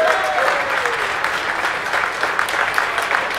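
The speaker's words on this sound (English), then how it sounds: "Give them a round of applause, please." An audience applauds the finalists of an X-Wing tabletop game tournament in Copenhagen with steady, dense clapping and no break throughout, fairly loud and filling the room.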